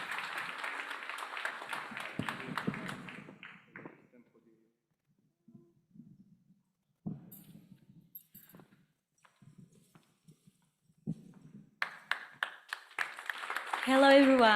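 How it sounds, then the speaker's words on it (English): An audience at a startup innovation awards final claps in a lively burst that fades out after a few seconds. After a quiet stretch with scattered faint sounds, another round of clapping rises near the end. "Let's clap for Deli Sape."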